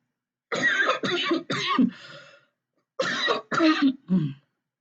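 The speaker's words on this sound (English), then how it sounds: "Excuse me, I had to cough." Two separate coughing fits, each a quick run of three harsh, throaty coughs, close by with a short quiet gap between them.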